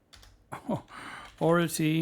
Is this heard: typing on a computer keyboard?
yes